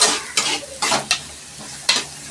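Onions for gongura chicken curry sizzle in a pan as a spatula stirs them in a few quick scraping bursts. The sound is close and loud, with no talking.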